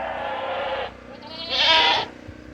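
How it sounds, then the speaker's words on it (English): Farm goats bleat close by, two distinct calls, the second higher and louder, over a quiet background with no talking. "so I can show you guys the goats, our goats"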